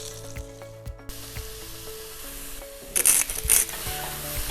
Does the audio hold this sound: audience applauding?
no